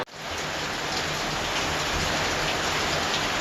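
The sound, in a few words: rain falling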